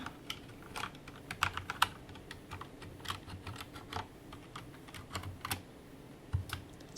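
Typing on a Corsair K70 Lux RGB mechanical keyboard: irregular clacky keystrokes in quick bursts, close and fairly quiet, with no voices.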